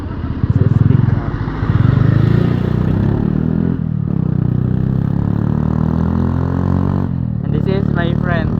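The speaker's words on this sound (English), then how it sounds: "this is my friend riding motorcycle" A motorcycle engine runs steadily close by with a low chugging rumble as a rider passes, briefly dipping around the middle, with faint talk mixed into the noise.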